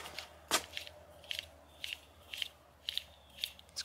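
A rusty bearing from an Allison transmission on a Timberjack 360 skidder, spun by hand, gives a series of sharp, quiet metallic clicks, about eight, spaced unevenly and close by, with no voices.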